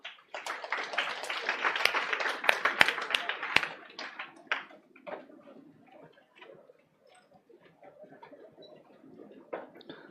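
A burst of clapping for a student in an online accountancy class, a flurry of quick claps that dies away into scattered taps.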